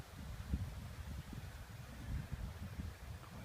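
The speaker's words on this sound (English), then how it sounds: "Quite breezy." Low, gusting wind rumbles against the microphone during a walk through woodland below Barry Hill, a soft, steady buffeting that rises and falls with the breeze.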